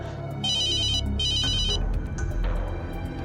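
A phone rings with two electronic bursts of trilling ringtone, loud and close, followed by handling noise indoors in a police station scene from a crime drama.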